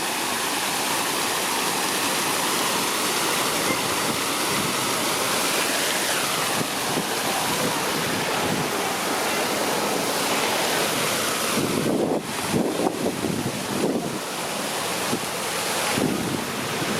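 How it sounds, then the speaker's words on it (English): Steady, broadband rush of splashing water from a fountain on Front Street East in downtown Toronto's St Lawrence neighbourhood fills the scene, a constant outdoor wash with faint bursts of activity near the end. "It's one of the most famous fountains here in the city."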